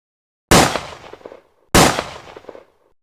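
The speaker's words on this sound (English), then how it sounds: "2 gunshots rang out." Two sharp gunshot sound effects about a second apart, each a loud abrupt crack followed by a short decaying echo, with silence before and between.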